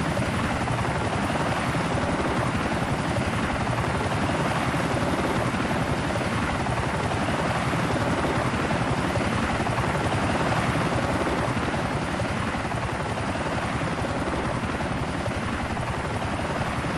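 A helicopter lifts off in the video game GTA IV, its rotor and turbine roar loud and steady from start to finish, with no voices over it.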